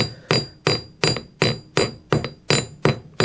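A hammer strikes a bent metal bracelet being forged, ringing out in about nine sharp, evenly spaced blows, each loud and close with a short metallic ring.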